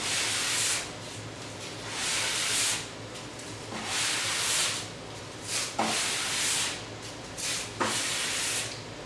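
A waxed snowboard base is scrubbed tip to tail in long, steady rubbing strokes, several passes repeating one after another at close range, with a few sharper scraping accents between them.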